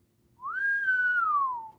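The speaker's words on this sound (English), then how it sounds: "That is double whistle worthy." One person gives a single clear whistle, close and fairly loud. It slides up quickly, holds, then glides gently down over about a second.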